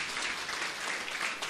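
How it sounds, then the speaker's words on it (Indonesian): A church congregation applauds in a brief, dense burst of clapping, steady and fairly close, with no voices over it. "Berikan kembali tepuk tangan bagi Tuhan."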